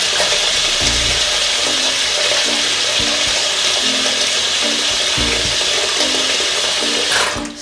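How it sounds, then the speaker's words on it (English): Tap water runs steadily into a clogged bathroom sink that is filling up, a continuous close splashing rush with faint low gurgles pulsing underneath, no voices. "I've got the water running and you can already see the sink is filling up because it's clogged"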